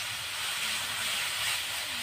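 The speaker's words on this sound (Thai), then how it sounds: "ผัดไฟแรงๆเลยค่ะผัดให้เข้ากันเลย" Bean sprouts stir-frying in oil over high heat in a home kitchen, a steady loud broadband sizzle and hiss that continues unbroken with no speech.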